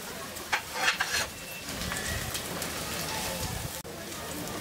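Garlic, ginger and chopped chili fry with onions in a pan, a steady crackling sizzle with a few louder spatters near the start, while someone talks.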